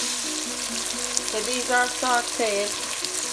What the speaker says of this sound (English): So these are going to be sauteed.